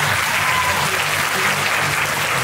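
An audience at a magic show in a performing arts hall breaks into loud, dense, continuous applause that holds steady and close throughout.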